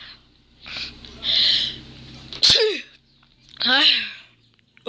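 A sharp, sudden sneeze onto a mobile phone screen bursts out close to the microphone, set between breathy vocal sounds and followed by a short squeaky vocalization.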